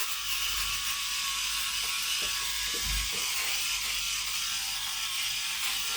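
A Philips rechargeable electric shaver buzzes continuously at close range while shaving, a steady high-pitched whine with faint rasping as it moves over stubble, with no speech.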